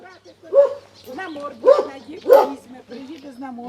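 A large village guard dog barks in a few loud, spaced bursts close by, with a person talking over and between the barks.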